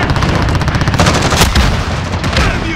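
Rapid automatic gunfire with an AK-47 in the shooter game Modern Warfare: a dense, loud, continuous rattle of shots with heavier booms mixed in. It carries on with no break and no voices over it.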